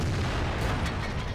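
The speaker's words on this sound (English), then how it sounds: "We fire one in there at the Type 58." A tank cannon firing in World of Tanks, a muffled boom within a continuous loud low rumble of engine and battle noise, heard briefly with no talking.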